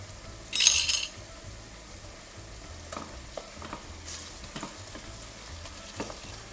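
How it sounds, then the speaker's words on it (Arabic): Peppers sizzle steadily in a pan for a Sfax-style fish couscous broth, stirred with a few sharp clinks of a utensil against the pan and one brief bright scrape early on, all close and moderately quiet. "خليهم يتقليو شويه"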